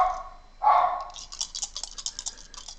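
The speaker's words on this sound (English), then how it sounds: "And my dogs are barking at the mailman." Dogs barking at a mailman: one loud bark near the start, then a run of quick, lighter yaps and clicks, heard alone without talk.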